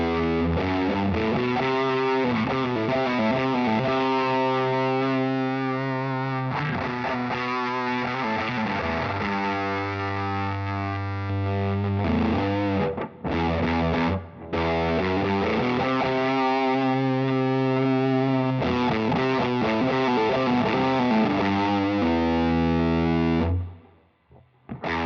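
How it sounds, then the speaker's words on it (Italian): Electric guitar runs through a Big Muff fuzz followed by a Tube Screamer overdrive, giving a thick, dark, heavily distorted tone across sustained chords and riffs. The playing is loud and continuous, with a few brief gaps, and cuts off near the end. "Questo è il Big Muff seguito da un Tube Screamer, sentite come diventa molto cupo il suono."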